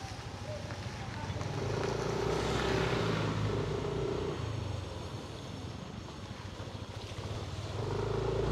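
A car drives past on a potholed, broken road, its broad tyre and engine rumble swelling and fading as it nears and moves away, with a second vehicle approaching at the end, steady and fairly loud.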